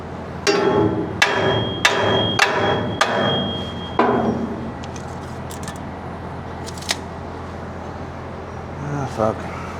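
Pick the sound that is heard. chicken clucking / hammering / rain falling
hammering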